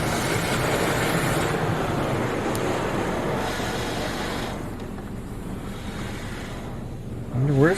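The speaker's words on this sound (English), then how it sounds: "A protective product is now being applied to your vehicle." A Washworld Razor Double Barrel automatic car wash at a King Soopers in Brighton, Colorado sprays protective product over a vehicle, a steady rushing hiss that eases off, ending with a short burst of louder noise.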